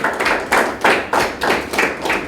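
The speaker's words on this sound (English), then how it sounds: "Clap, clap, clap, and I'll tell you why I want you to clap." Clapping in a steady rhythm at a youth skills talk, about seven sharp claps in just over two seconds, close and fairly loud with no talking over them.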